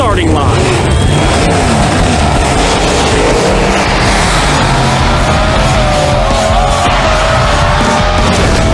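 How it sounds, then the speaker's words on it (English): Race car engines roar and rev together at a starting line, a dense, loud mechanical drone with rising and falling pitch sweeps and tire noise filling the whole stretch without pause. "They rev their engines at the starting line."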